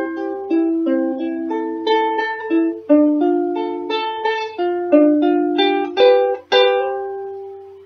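Ukulele strumming the chords of an Adventure Time song, a clean solo instrument with steady chord changes and a final ringing chord.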